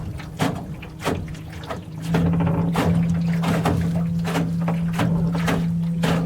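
A solar electric motor on a Grumman Sportboat hums steadily while underway, a low tonal whine that rises as speed increases, with rhythmic water slaps and paddle-like splashes against the hull close by.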